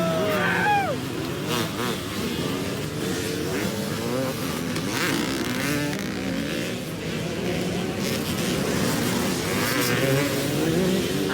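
Old Yamaha Elsinore dirt bikes race close by at an outdoor event, engines revving and droning continuously with rising and falling pitch as riders rip past, loud and steady throughout.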